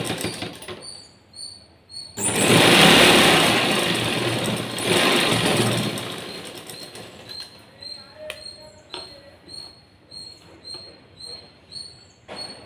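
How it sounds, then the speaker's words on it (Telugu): A sewing machine runs one steady stretch of stitching for several seconds on a blouse, with the upper cloth turned back, then falls to quiet clicks and light handling noises. "ఇప్పుడు ఇలా పై క్లాత్ వెనక్కి తిప్పేసుకొని అనిగిపోయే కుట్టు వేసుకోవాలి."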